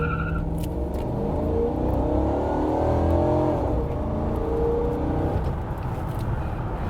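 A 1996 Chevrolet Impala SS with a Corvette LT1 V8 revs loudly and steadily, its engine note climbing and falling in a continuous close-up roar with no talking over it.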